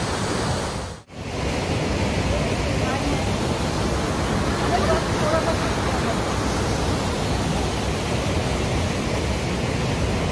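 Loud, continuous rush of water from the Düden Waterfalls in Antalya, broadband and steady, with a brief dropout near the start.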